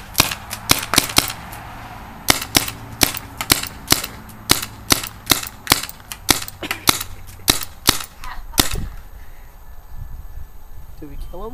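Rapid gunfire, a fast series of sharp loud shots in bursts over about nine seconds, then quieter rustling.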